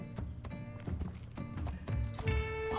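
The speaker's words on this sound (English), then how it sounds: "A horse!" A horse's hooves clip-clop at a light, uneven pace in the video game Assassin's Creed Shadows, fairly close and moderately loud, over a sustained musical tone.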